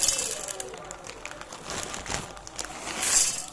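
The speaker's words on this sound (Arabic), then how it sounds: "واجيب احط كيس المكرونه" A plastic bag of pasta crinkles and rustles in the kitchen while it is brought to a pot with a little heated oil, irregular crackly handling sounds over about three seconds.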